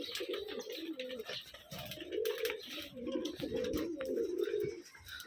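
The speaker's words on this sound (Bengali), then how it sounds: "এই যে অনেক কবুতর" Many pigeons coo continuously at an old-style pigeon farm in Rajshahi, a dense overlapping murmur of calls close by with faint chirps and a soft voice in the background.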